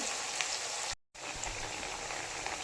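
Kothimbir vadi, Marathi coriander fritters, pan-fry until crisp, giving a dense, even sizzle close up that cuts out for a split second before resuming just as steadily.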